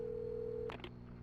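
Telephone in the video game Alan Wake: a steady dial tone that cuts off, followed by two quick dialing beeps, faint and alone.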